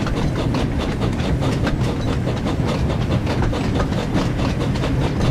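Steady clickety-clack of a train rolling along rails in the Thomas and Friends: Wonders of Sodor video game, with a dense, even rhythm of wheel beats that continues without a break.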